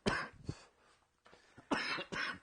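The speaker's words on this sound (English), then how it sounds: "You keep coughing." Several harsh coughs in quick bursts, close up, with short pauses between them and no speech.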